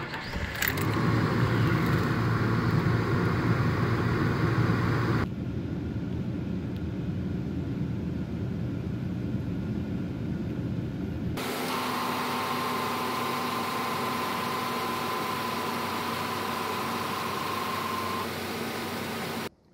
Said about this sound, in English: Now crank her up and get her up to temperature and let it run for like 10 minutes after it's up to temperature